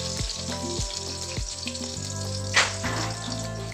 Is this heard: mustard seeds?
yes